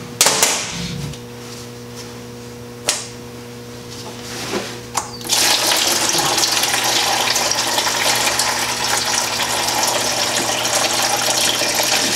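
Coolant drains from an LS engine block with a carbureted setup, the block fitting cracked at the bottom for a controlled drain. After a few clunks, a steady, fairly loud gushing pour begins partway through and continues alone to the end.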